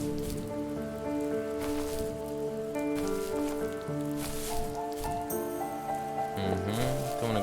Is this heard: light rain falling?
yes